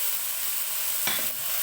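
Chicken with tomato and a green chilli frying over medium heat in a pan makes a steady, even hiss, broken near the end by one or two short soft stirring scrapes; close, no talking.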